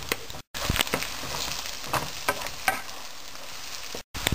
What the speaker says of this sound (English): I will fry this onion till it becomes a light golden brown color.